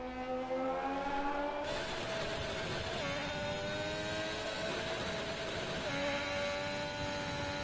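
A race car at Jeddah revs hard through the gears, its engine note loud, close and continuous, with rising harmonic whine and no pauses.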